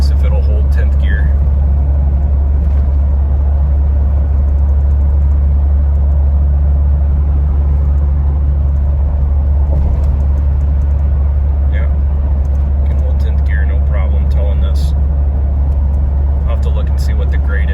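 Steady low diesel drone of a 2023 Ford F350 Tremor high-output diesel towing an 8,500-pound travel trailer, a constant heavy rumble with road noise throughout and a voice talking over it.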